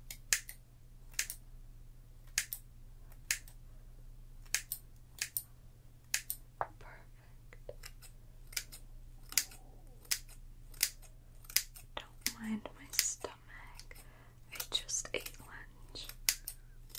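Scissors make crisp, close snips while cutting real hair during a haircut, spaced irregularly and growing quicker toward the end, heard in a quiet room with faint soft whispering.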